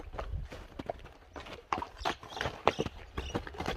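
A tall, slender horse's hooves clip-clop in uneven, close knocks on hard ground, with faint background sound between the steps.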